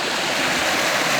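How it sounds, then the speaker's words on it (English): Creek water flowing under a bridge in Allegany State Park, a steady loud rushing hiss, close by and unbroken, with no talking. "Nice little creek here whose name escapes me."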